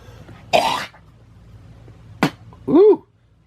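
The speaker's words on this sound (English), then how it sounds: "Let me clear my throat again." A person clears their throat in a few short, rough bursts, spaced apart with quiet between them, close and fairly loud with no talking.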